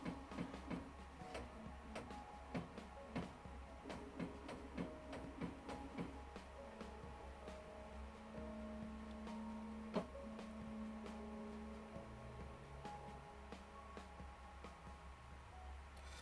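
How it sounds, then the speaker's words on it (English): A Prusa Core One 3D printer runs its self-test on a not very sturdy table, a steady mechanical hum with rapid ticking stepper clicks and brief whining motor tones as the bed and extruder move through their range. "The printer may vibrate and then noisier during homing."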